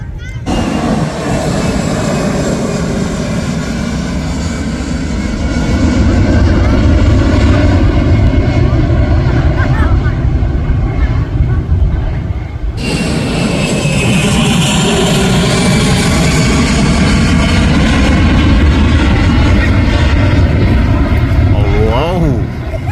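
A jet airliner takes off over Mai Khao beach in Phuket, a loud, sustained broadband roar that fills the whole stretch and swells midway, with people talking nearby.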